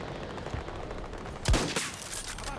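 A single sharp sniper rifle shot cracks out loudly partway through, standing out against a steady bed of background noise in Battlefield 2042.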